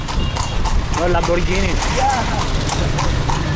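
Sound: horse hooves clip-clopping in Luxor, Egypt

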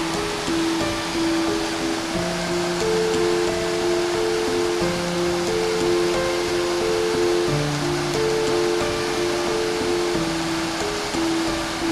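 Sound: Usri waterfall, water rushing down rocks

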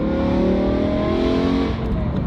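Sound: sports car engine revving

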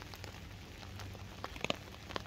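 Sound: rain falling at a wild camp

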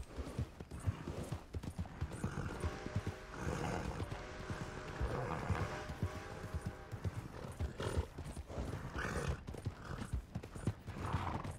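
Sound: horse hooves in video game Red Dead Redemption 2

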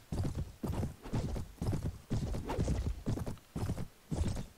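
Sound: horse hooves and whinny in video game Mount & Blade

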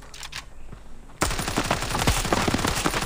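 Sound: gunfire in the video game Standoff 2

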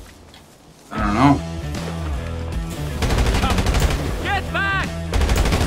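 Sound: gunfire in the video game GTA Online

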